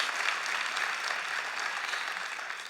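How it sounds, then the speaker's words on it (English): Audience applause at an anniversary speech event for parents, a steady wash of many hands clapping, fairly close and even, fading slightly at the end. "Let's give them all a round of applause"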